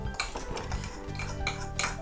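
Dry batter mix is dumped into a bowl in a home kitchen, with a short clatter and clinking of bowls and utensils over soft rustling.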